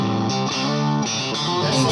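A vintage Fender Stratocaster electric guitar played through distortion effects, a few loud sustained chords and note changes ringing out close, with no voices.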